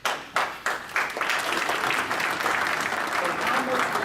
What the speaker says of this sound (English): I would like everyone to applaud.